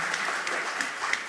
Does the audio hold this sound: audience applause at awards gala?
yes